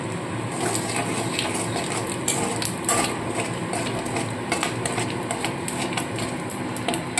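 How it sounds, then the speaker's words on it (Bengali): Cumin seeds and dried red chilies sizzling in hot oil for tempering a fish-head lentil dal, a steady dense crackling hiss with scattered sharper pops throughout. "এই তেলের মধ্যে আমি প্রথমে জিরে আর একটু শুকনো লঙ্কা ফোড়ন দেবো"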